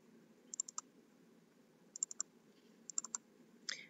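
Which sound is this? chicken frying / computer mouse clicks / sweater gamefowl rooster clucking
computer mouse clicks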